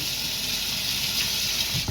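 Hot tap water runs into a kitchen sink during morning dishwashing, a steady close hiss and splash that continues without pause, with a brief clatter near the end.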